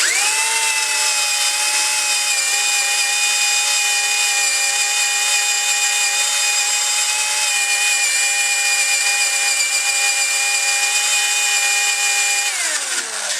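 A power saw cuts a hole in a wooden door for a door knob, a loud, steady, high-pitched whine held for about twelve seconds before winding down, with no talking.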